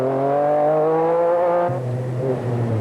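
A 1988 MG Metro 6R4 rally car drives a forest stage in the Esso Metro Super Challenge. Its engine holds a loud, steady high note, then drops sharply to a lower pitch as it shifts gear.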